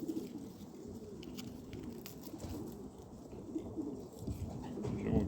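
Low, soft cooing of pigeons, repeated murmuring calls over a quiet background with faint rustling.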